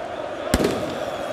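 In the stands at the USMA–MCA football derby in Algiers, one sharp firecracker blast cracks out, with a short rattling tail trailing off into the steady murmur of the crowd.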